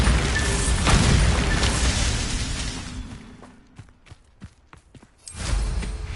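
A Bombarda blasting spell goes off in Hogwarts Legacy with a loud, low rumbling boom that fades over a couple of seconds, followed by a few faint thuds and steps, then another swell of rumble.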